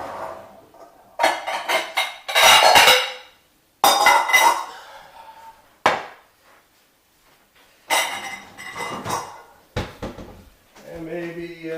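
Kitchen clatter as a bowl is taken out: a cupboard opening and closing, then several knocks and clinks of dishes in bursts with brief pauses between them, close by.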